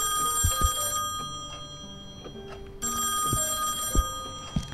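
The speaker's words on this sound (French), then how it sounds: "Ah, je dois répondre au téléphone, d'accord." A telephone rings in the horror video game Song of Horror, two long bursts of bell ringing separated by a pause, loud and close, with faint game sounds in between and no talk.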